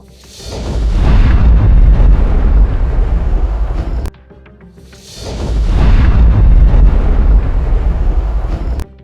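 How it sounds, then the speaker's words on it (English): Two long, deep AI-generated cinematic explosions, each a heavy rumbling boom that swells and slowly fades, separated by a brief near-silent gap. "I generated a cinematic explosion, a sound that's super popular in YouTube video content"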